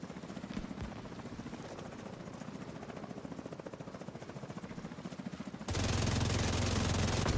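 A helicopter arrives for extraction in the video game The Division 2, its rotor thudding in a steady rhythmic chop that grows louder, then swells into a loud, dense engine roar near the end.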